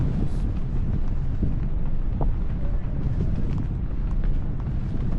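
Steady wind buffets the microphone throughout while parasailing at Boracay Island, a constant low rumble with no pauses.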